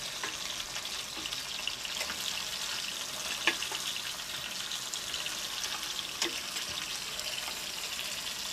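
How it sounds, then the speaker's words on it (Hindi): Spiced chicken fries in a little oil in a pan, a steady close sizzle running throughout with a few faint clinks and stirring noises. "तो पैन में मैंने बहुत थोड़ा सा ऑयल ऐड किया है और अब इसको हम फ्राई कर लेंगे"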